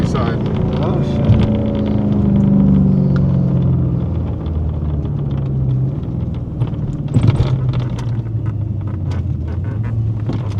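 Loud cammed race car at a roll racing event, its engine roaring and rising in pitch as it accelerates close by, then settling into a heavy rumble, with people talking over it.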